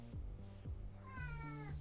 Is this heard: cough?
no